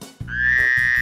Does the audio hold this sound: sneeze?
no